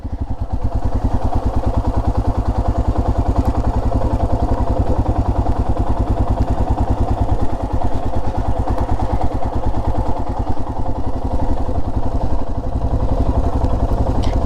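A motorcycle runs steadily in third gear during a practice ride, its engine a loud, close, continuous throbbing drone with little change throughout.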